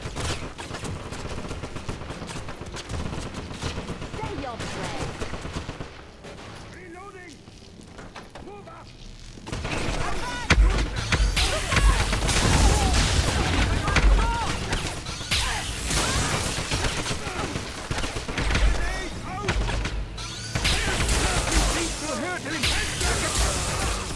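Super weapons in Wolfenstein unleash rapid sustained gunfire, a dense roaring barrage that drops briefly to a quieter stretch before surging back in heavy continuous bursts, with game noise and a voice mixed underneath.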